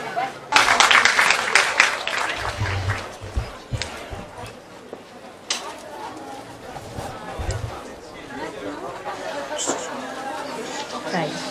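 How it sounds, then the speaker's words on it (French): At a cosplay contest, an audience claps as contestants arrive, loud bursts of applause at first that fade into crowd chatter and scattered noise, with voices talking throughout. "applaudissez bien fort ceux qui vont arriver bientôt"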